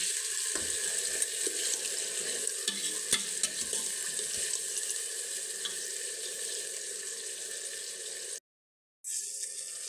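A steady sizzle of onion, garlic and ginger paste frying in a pan, a continuous bright hiss with a few faint clicks, briefly cutting out near the end.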